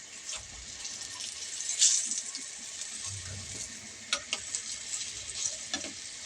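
Eggplant slices frying in oil in a home kitchen, a soft steady sizzle with occasional brighter spits and a few light clinks of utensils, close and fairly quiet.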